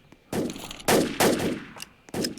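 Gunfire in the Roblox SCP breach game, several short bursts of rapid automatic shots separated by brief pauses, fairly close and loud with no talking.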